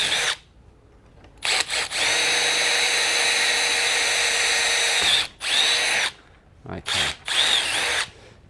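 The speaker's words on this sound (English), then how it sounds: "Drill this side." A power drill boring a hole during assembly of a Kingfisher Eclipse, running in several loud, close bursts of steady whine separated by short pauses, with no talking.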